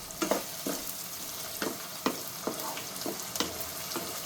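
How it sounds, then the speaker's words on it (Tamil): Brinjal and drumstick pieces sauté in a pan for spicy kuzhambu, a soft steady sizzle broken by repeated scraping stirs at an even rhythm, close and moderately quiet. "அந்த காயோட சேர்த்து நல்லா வதக்கலாம்"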